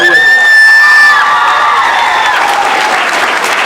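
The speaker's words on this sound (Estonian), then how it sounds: "no plaksutame korra Lumivalgesse" A live audience at a 2023 Christmas party show applauds and cheers loudly for a performer dressed as Snow White. Dense, sustained clapping with whoops runs throughout, and a tonal cry rises briefly near the start.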